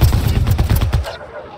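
Rapid bursts of gunfire in the video game Mass Effect Andromeda, a dense fusillade of loud repeated shots for about a second before cutting off abruptly.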